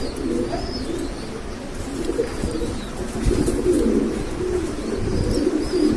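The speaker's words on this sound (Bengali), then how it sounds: "এখানে অনেক কবুতর আছে" Many pigeons cooing together in a loft, a continuous low warbling chorus of overlapping coos that stays close and fairly loud throughout, with occasional faint chirps and wing shuffles.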